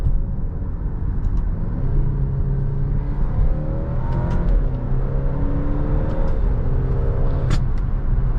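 A 2024 Alfa Romeo Stelvio Veloce SUV in manual mode accelerates onto a highway, its engine note climbing steadily through the gears over a constant road and cabin rumble, with no talking.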